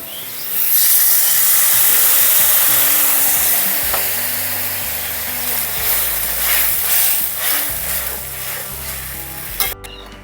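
Water poured into a pan of frying hog plums sets off a loud, rushing hiss that holds strong for several seconds, then eases into a bubbling simmer with a clunk near the end.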